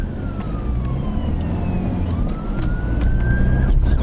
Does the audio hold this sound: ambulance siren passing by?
yes